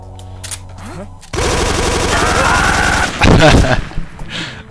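Rapid automatic gunfire from the Metal Gear Solid 3 HD Remaster video game, loud and sustained in dense bursts, with a laughing voice at the start and overlapping shouts in the game's soundscape.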